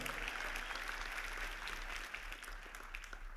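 An audience claps in a dense, continuous burst that stays steady and full, then eases off slightly near the end, heard from within the hall.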